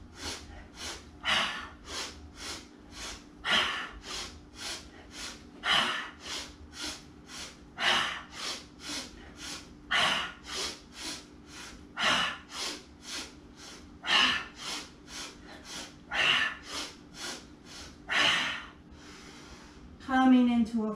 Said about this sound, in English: we're going to start with a wood chopping breathing technique